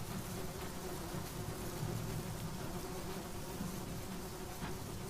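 Steady, dense buzzing of bees swarming around a large hive in the game Sunless Skies, a continuous low drone that stays even throughout with no talk.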